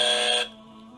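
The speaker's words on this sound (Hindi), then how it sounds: "अली ने बजर प्रेस किया" A quiz show buzzer sounds when a contestant presses it during a competition, a loud, harsh electronic tone lasting under half a second before cutting off abruptly, leaving a faint tonal hum.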